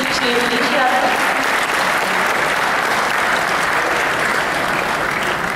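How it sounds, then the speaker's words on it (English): Loud, dense applause from a large audience for the chief guest, Uttar Pradesh Chief Minister Akhilesh Yadav, at a TOI Green Parliament event, continuous and even, with a voice briefly heard at the start. "can we have a big hand of applause once again for our esteemed chief guest for today's program"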